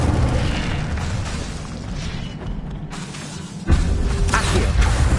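Incendio fire spell cast in Hogwarts Legacy: a sustained loud roaring blast, a dip, then a sharp fresh burst of fiery boom near the end.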